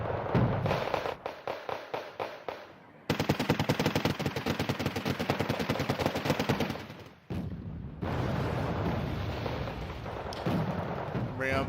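Rapid bursts of weapon fire from units in the real-time strategy game Wargame, loud and dense, with stretches of machine-gun rattle broken by short pauses and heavier blasts, continuing almost without break throughout.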